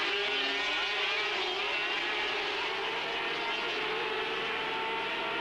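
ADM-engined LCR sidecar racing outfits race at speed at Le Mans in a 1991 world championship round, giving a loud, continuous high-pitched engine roar with no break or pause.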